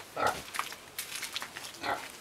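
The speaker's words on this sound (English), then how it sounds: "This is pig." Pigs on a homestead farm in Wakiso District, Uganda, give a few grunts and snorts at moderate distance over outdoor background noise, coming in short bursts.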